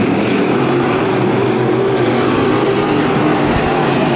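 A race car engine at a Bakersfield Speedway heat race keeps running after a spin in turn two, a loud steady roar of motors filling the track without a break.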